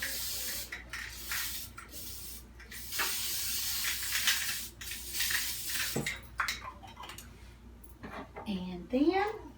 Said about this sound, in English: I told y'all I was going to spray the pan. Let me spray it.